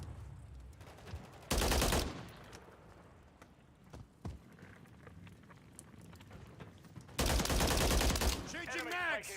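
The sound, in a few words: gunfire in a military shooter video game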